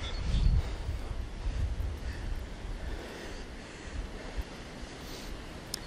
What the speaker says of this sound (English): I think there's a weir at the top, and the water flows down, obviously.